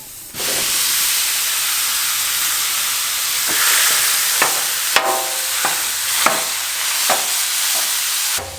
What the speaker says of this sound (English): we have got 4 pounds of ground beef here that we're just going to throw on a very, very hot grill